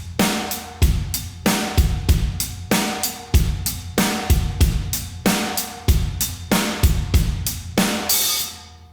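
Drum kit groove at moderate force, with kick drum, snare and hi-hats playing a steady, even backbeat. Solo, close and consistent in level, with crisp hat ticks between the snare and kick hits.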